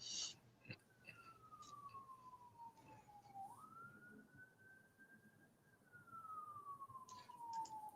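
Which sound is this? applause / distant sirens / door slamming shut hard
distant sirens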